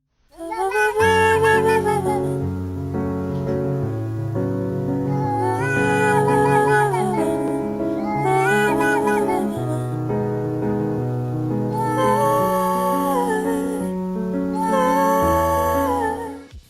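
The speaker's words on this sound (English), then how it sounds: "a video harmonising with a cat" A cat's meows rise and fall in pitch while sustained piano chords harmonise beneath them, forming a slow, continuous musical piece.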